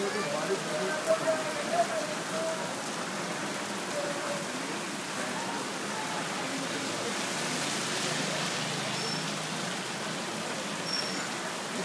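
Heavy rain pours down in Lahore in a dense, steady hiss of drops on hard surfaces, with a few faint tonal sounds and distant voices in the background.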